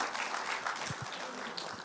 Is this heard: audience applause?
yes